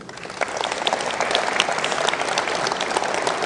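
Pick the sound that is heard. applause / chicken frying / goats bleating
applause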